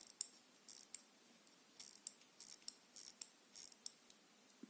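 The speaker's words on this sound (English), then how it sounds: "You can hear how I hand wind it now." Hand winding a mechanical wristwatch made in India, heard as a close, faint series of crisp ratcheting clicks in a steady, repeated rhythm, with no voices.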